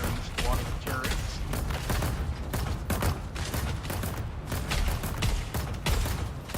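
A squad of turrets firing in a Dune roleplay video game, rapid bursts of gunfire and mechanical clatter in dense repeated volleys, loud and continuous, with a voice talking over it.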